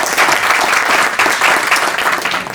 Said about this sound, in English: we should give you a round of applause for your wonderful work.